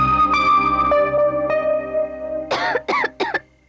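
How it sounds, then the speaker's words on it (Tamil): A girl coughs in a Tamil comedy film, three sharp, close coughs in quick succession after a stretch of sustained musical tones. "பாத்தியா இருமுது"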